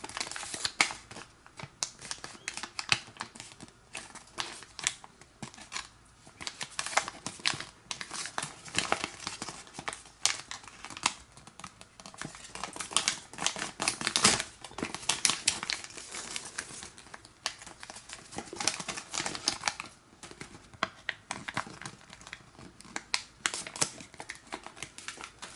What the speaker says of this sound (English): I'm gonna mount and fold it to this crease right here